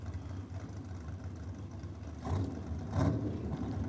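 Pair of T-bucket drag cars, a Holden 6-cylinder and a small block Chev, idling at a drag racing start line, a low rumbling drone heard from a distance with a couple of brief revs swelling near the end.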